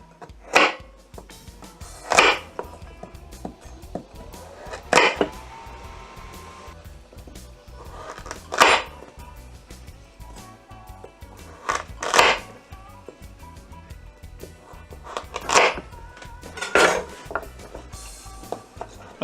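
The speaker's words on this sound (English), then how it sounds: "I'm going to cut those probably in about 1-inch sections." A knife chops carrots into roughly one-inch sections on a cutting board, giving sharp, separate thunks every second or two with quiet gaps between them.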